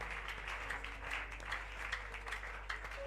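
A church congregation applauds and acclaims during a French-language sermon, a steady, fairly faint wash of clapping from a crowd that carries on without pause.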